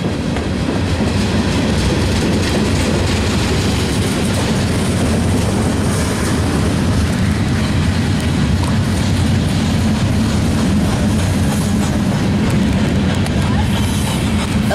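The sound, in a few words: westbound train passing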